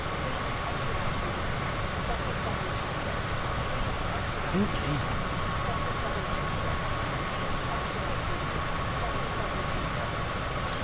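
A plane's engine in Microsoft Flight Simulator 2024 gives a steady, even drone with a constant whine on top, and a voice speaks briefly once over it.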